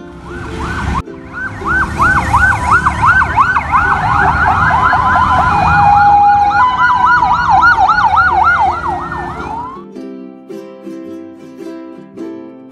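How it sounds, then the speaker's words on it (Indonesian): A loud ambulance siren wails in rapid, repeating up-and-down sweeps for several seconds, then cuts off as light music takes over. "A is for ambulance,"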